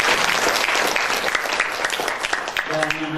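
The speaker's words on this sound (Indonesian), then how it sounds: "Mari kita beri tepuk tangan." An audience claps at a lecture session, a dense burst of applause that thins slightly near the end while a faint tonal sound enters.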